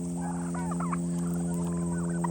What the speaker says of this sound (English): That's a nice bunch of turkeys.